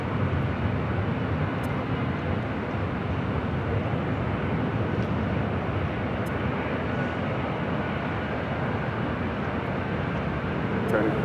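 Jet airliner roaring down the runway on takeoff at LAX, a steady broad rumble that holds loud and even throughout with no gaps, the engine noise filling the whole stretch.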